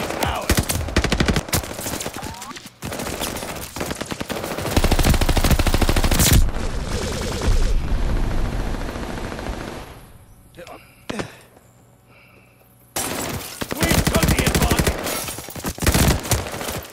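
Rapid automatic gunfire in Call of Duty around a hardpoint, dense bursts of shots close and loud, pausing for a quieter stretch before heavy firing resumes.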